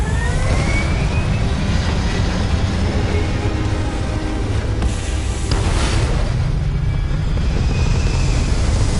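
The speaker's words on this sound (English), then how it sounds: "All thrusters firing." Spaceship thrusters firing in the space game Starfield: a loud, steady, full-bodied roar that rumbles without pause for the whole stretch, with thin rising whines drifting over it and a brief sharp crackle midway, no voices.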